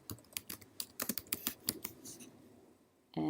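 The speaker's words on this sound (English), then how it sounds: "click exactly where it is that you want to make the comment and type your comment here" Keys clatter on a computer keyboard as a comment is typed, a quick irregular run of close clicks for about three seconds before a brief steady tone cuts in at the end.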